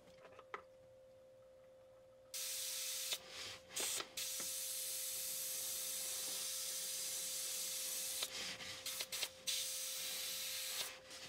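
An airbrush fed from an air hose sprays black paint at 22 psi, starting after a quiet moment with a sustained close hiss, broken by several brief dips and stutters as the trigger is worked, plus a faint steady hum underneath.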